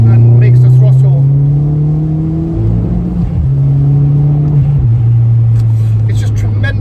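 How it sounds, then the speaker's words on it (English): Ford Fiesta ST180 fitted with a GFB diverter valve accelerating hard, a loud, steady engine drone rising in pitch through the gears, with a brief dip partway through and no talk over it. "Very good acceleration. And of course the noise, the psht noise is more pronounced,"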